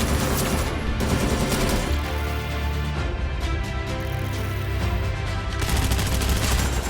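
Dense, continuous automatic gunfire from the shooter game Arena Breakout, with loud rapid shots and heavy recoil booms running the whole stretch without pause.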